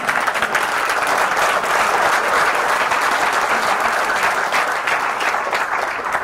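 An audience claps at a motivational seminar, a dense, sustained roar of many hands that stays loud and even for several seconds, with no speech on top.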